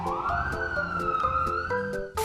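A fire engine siren wailing close by as it arrives at a burning house, a continuous rising and falling tone over background music, loud and unbroken.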